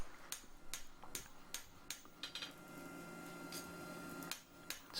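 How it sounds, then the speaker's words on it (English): Sharp metallic hammer blows on a hot farrier's knife blade ring out one at a time at an uneven pace, each strike bright and close against a steady background hum. "Now moved on to the smaller hammer yet again."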